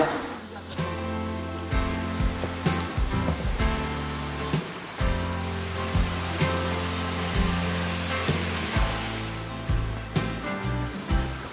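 Steady rushing roar of a waterfall in the Grand Canyon area of Australia, loud and continuous over a broad wash of noise, with some bursts of music-like tones and thuds layered on top.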